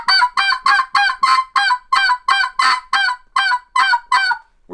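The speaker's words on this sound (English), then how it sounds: "I can yelp kind of raspy on it." Raspy yelps come from a hand-blown turkey tube call, around a dozen rough, honking notes in a steady rhythm, loud and close with no other sound.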